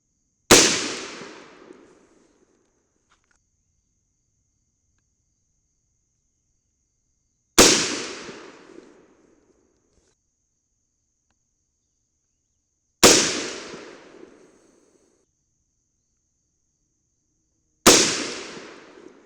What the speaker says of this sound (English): All right, let's get to shooting.